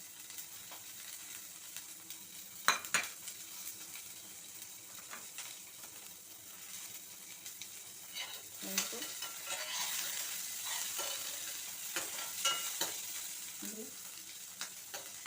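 Green chillies, garlic and a little fennel hitting hot oil in a home-kitchen pan, a quiet, steady sizzle with scattered crackles and small pops, and a few sharper clinks of stirring.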